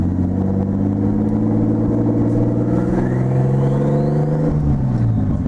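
A turbocharged Datsun 280ZX engine revs hard and steadily, its rising whine and turbo spool building for several seconds before the pitch drops as it shifts; no talking.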